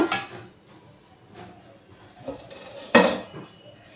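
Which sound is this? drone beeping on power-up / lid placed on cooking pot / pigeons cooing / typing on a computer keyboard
lid placed on cooking pot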